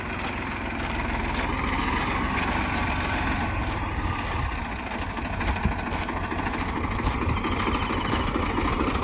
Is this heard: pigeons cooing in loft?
no